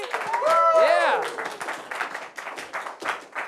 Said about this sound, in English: Round of applause for Bayard, everybody.